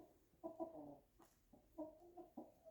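Chickens, including a Rhode Island Red, clucking softly in a barn, a few short murmuring bursts in a quiet, close setting.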